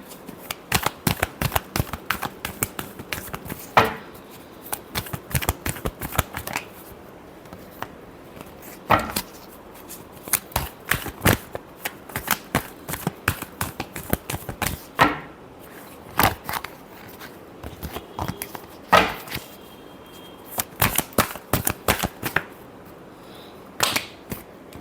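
Tarot cards riffled and shuffled in a long run of quick crisp flutters and snaps, close and fairly loud, with brief pauses between bursts and no talking.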